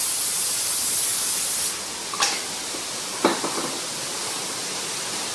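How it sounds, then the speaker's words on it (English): Spray tack adhesive sprayed onto a sheet of cardboard: a steady, close hiss for almost two seconds that then cuts off, followed by a couple of faint taps. "So we can, like, use the spray tack on here"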